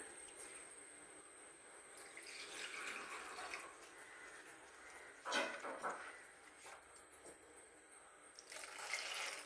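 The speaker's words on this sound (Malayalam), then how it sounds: "കുറച്ചുകൂടി വെള്ളം വേണം." Water trickles and splashes quietly into a pot of village-style anchovy curry with tomato and green chilli, a soft, uneven pouring with small splashy bursts partway through.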